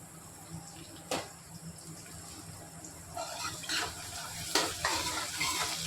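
Onions fry in oil in a pan for a petha (pumpkin) dish, a low steady sizzle broken by a few distinct stirring scrapes and clacks that grow busier toward the end, close and without speech.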